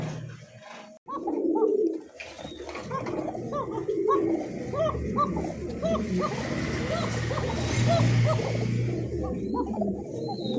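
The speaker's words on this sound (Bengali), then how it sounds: "খুব সুন্দর ককা কবুতর দেখতে পাচ্ছেন দর্শক" Kokka pigeons make repeated low, rolling coos close by, with many birds overlapping in a continuous chorus and voices murmuring in the background.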